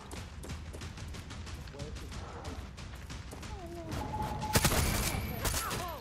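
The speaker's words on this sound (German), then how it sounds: "da schießen doch die Soldados auf mich" Soldiers' gunfire in the video game Far Cry 6, a series of sharp shots and bursts over game ambience, with a louder cluster of blasts near the end and voices talking throughout.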